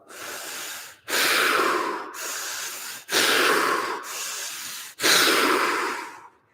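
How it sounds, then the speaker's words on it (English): Three big breaths in through the mouth during a fascial stretching session, each a loud, close, rushing inhale followed by a softer exhale, in an even rhythm with short pauses between. "3 big breaths in through the mouth"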